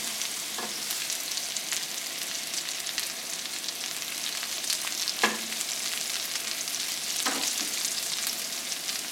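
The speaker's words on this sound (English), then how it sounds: "Now I got it searing up the other side" Ahi tuna searing in a hot pan, a continuous close hiss and crackle of sizzling with a few faint knocks, no talking.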